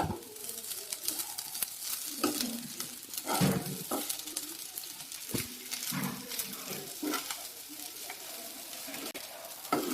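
Egg fried rice with coriander is stirred in a hot pan, with continuous sizzling broken by repeated scraping and clattering strokes of the spoon, close and fairly loud, with no talking.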